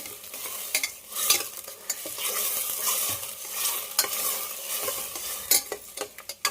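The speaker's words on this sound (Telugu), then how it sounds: "టమాటా, అల్లం, వెల్లుల్లి, ఎండుమిరపకాయలు అయితే మిక్సీ పెట్టేసుకున్న పేస్ట్ ఉంది కదా, అది కూడా వేసుకొని బాగా పచ్చి వాసన పోయేంత వరకు ఉడకనిచ్చేసుకోవాలి" A paste of tomato, ginger, garlic and dried chillies sizzles and fries in a pot while a spoon stirs it with repeated scraping clinks, the frying hiss steady underneath.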